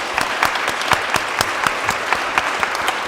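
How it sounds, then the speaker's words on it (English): Brief round of audience applause after a conversation event, close, crisp individual claps standing out within steady clapping for about three seconds. "Can we just do the initial round of applause?"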